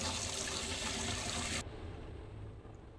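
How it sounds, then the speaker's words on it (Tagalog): Pork rinsed under running water, a steady splashing stream that suddenly drops to a quieter trickle partway through, close and alone with no talking. "hugasan na natin yung ating pork"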